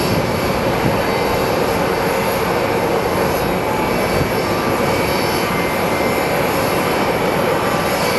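A passenger jet arriving at Phoenix Sky Harbor International Airport gives a steady, loud broadband roar of jet engine noise, continuous throughout without voices.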